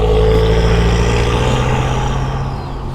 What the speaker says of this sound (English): now the car's gone by